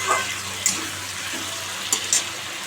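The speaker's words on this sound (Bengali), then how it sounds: "জল দিয়ে দেবো অল্প করে ব্যাস" A little water poured into egg curry in a hot pan, giving a steady soft hiss and sizzle with a few brief splashy pops, close and moderately loud, with no talk.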